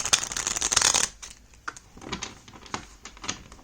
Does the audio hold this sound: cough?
no